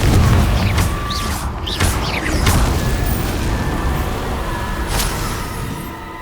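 Confringo fire spell in the Hogwarts Legacy video game, a sustained, loud, rumbling blast layered with crackling bursts and magical whooshes.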